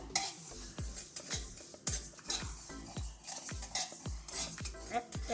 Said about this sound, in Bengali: মৌরি দিয়ে দিলাম 2 চামচ। আর নিয়েছি সাদা সরষে। তা এগুলো একটু ভেজে নিই